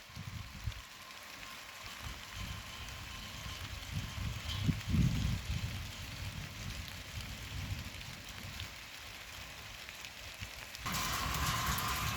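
Heavy rain falls at a hillside homestead in Vagamon, Idukki, heard from a second-floor balcony as a steady broadband hiss with a few louder gusts, and no voices.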